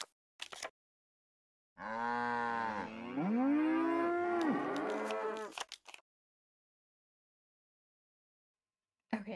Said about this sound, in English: Gotta move the cows.